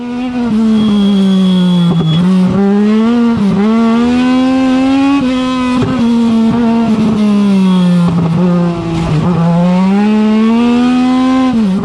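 A small race car revs hard through a slalom course, its engine note climbing and dropping between shifts and turns while brief tire squeals cut in, loud and close from start to finish.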